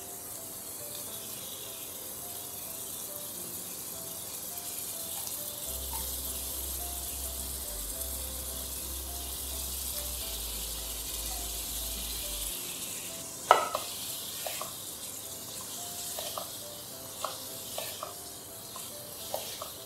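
Small chicken moti kofta balls sizzling in a pan on a medium flame, a soft continuous frying hiss that later gets a few sharp scrapes and knocks of gentle stirring, with no talk.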